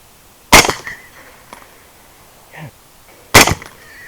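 Two muffled, sharp cracks a few seconds apart from an LWRC 6.8 rifle fitted with a Gemtech 30-caliber thread-on suppressor during a night hog hunt, with faint rustling and a brief animal squeal between shots.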